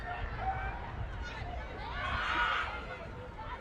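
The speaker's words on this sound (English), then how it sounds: "Crowd getting eager." Crowd at a Brooklyn FC versus Lexington SC women's soccer match rising into an eager murmur and swell of cheering in a stadium, with the sound peaking briefly near the end.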